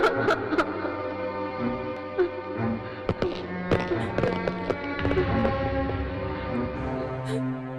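A burst of gunshots rings out in a dubbed Hindi action film, a series of sharp cracks and bangs over tense music, fairly loud and irregular.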